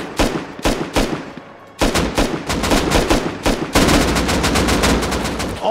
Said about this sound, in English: We made even more gunshots.